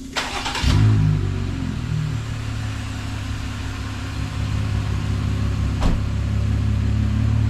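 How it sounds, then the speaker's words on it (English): A Jeep Gladiator engine turns over with a brief cranking burst, then settles into a loud, steady close idle drone that continues to the end, with one sharp click partway through. "I guess you have to turn the vehicle on for the driving lights to come on"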